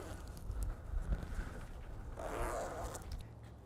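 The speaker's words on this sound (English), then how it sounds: "just zip everything back up" A zipper pulls along a Bestop Trektop NX soft top on a Jeep JK Unlimited, a steady close rasp with scraping and handling noise.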